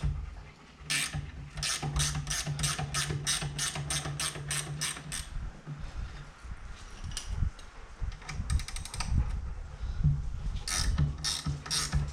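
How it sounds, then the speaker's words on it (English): A 15 mm ratchet wrench working on the brake caliper bracket of a 2020 Polaris General XP 1000: rapid, evenly spaced metallic ratcheting clicks in runs, pausing and resuming, close and clear. "You're going to need a 15 mil wrench. Take the caliper bracket off."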